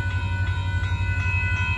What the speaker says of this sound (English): Here comes the northbound train.